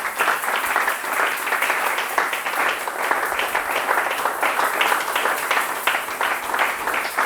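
A church congregation gives sustained applause and cheers for Jesus, a thick, even wash of clapping with shouting voices blended in, continuing strongly for about seven seconds.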